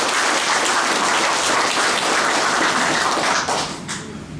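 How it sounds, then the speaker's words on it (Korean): Strong, dense applause from an audience at a ceremony declaring support for a candidate, loud and continuous before tapering off at the end. "큰 박수 부탁드립니다."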